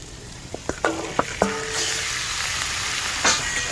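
Pork tossed into a nearly oil-free hot pot for a pork soup, a few sharp clacks of stirring and scraping followed by a steady close sizzle that swells briefly near the end.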